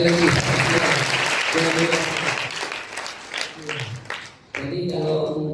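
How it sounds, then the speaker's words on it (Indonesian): A crowd claps steadily and loudly at the opening of a silat martial arts branch at an orphans' Islamic boarding school, the applause fading after a few seconds as a voice begins speaking over it. "Tepuk tangan dong sekali lagi."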